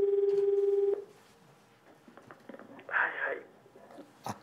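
A telephone call being placed for a morning wake-up call: a steady dial tone, then faint clicks and rustling, with a brief tonal burst later, heard up close under quiet background movement.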